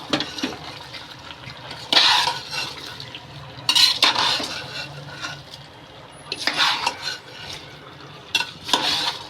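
Chicken pulao being stirred in a cooking pot, with scraping metal-on-pot strokes arriving in a few distinct bursts against a steady low kitchen background.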